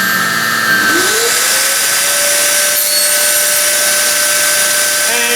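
A dust collector runs beside a table saw used with a crosscut sled in a woodworking shop. The machine spins up with a rising whine and then holds a loud, steady roar close by.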